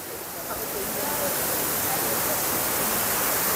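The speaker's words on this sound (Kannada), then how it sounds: "ನೋಡಿ, ಫಾಲ್ಸ್ ಎಷ್ಟು ಚೆನ್ನಾಗಿದೆ, ತುಂಬ ಚೆನ್ನಾಗಿ ಮಾಡಿದ್ದಾರೆ." Artificial indoor waterfall inside Bangalore Airport Terminal 2, a steady, broad rush of falling water that fills the space evenly and grows slightly louder after the first second, with no talk over it.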